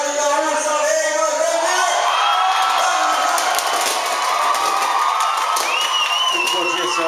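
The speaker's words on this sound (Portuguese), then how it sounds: "Uma salva de palmas para Grupo Mirim, da Sociedade Gaúcha Leiga" A festival crowd cheers and claps for a children's folk dance group of a Gaúcho society in Novo Hamburgo, loud whoops and shouts layered over clapping, with a voice and crowd chatter mixed in throughout.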